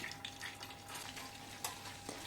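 Dried mint frying in melted, hot butter for a Turkish yogurt soup, a steady close crackling sizzle with a few light spoon stirs and taps against the pan, no voices.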